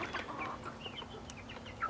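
Backyard hens cluck and murmur softly during morning chicken chores, a few faint scattered clucks and chirps at close range over quiet outdoor background.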